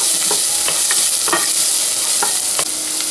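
Onion and leek stir-frying in olive oil for a French pea soup, a constant close sizzle broken by several spatula scrapes and taps.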